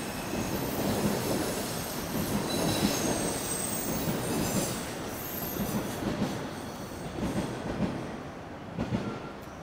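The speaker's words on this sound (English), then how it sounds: "And there goes southbound Line 1 subway train." A southbound Line 1 Toronto subway train rumbles past with constant clattering and high, shrill wheel squeals throughout, loud and continuous with no voices.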